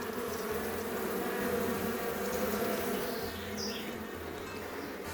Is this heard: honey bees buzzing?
yes